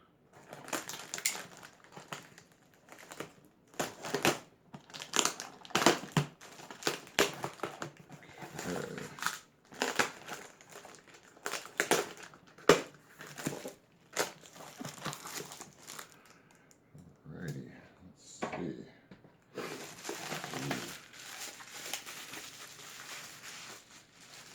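Packing tape on a SENSAH Pro bicycle groupset box being peeled, torn and crinkled, with bursts of ripping and crumpling in an uneven rhythm, close and fairly loud, with no talking.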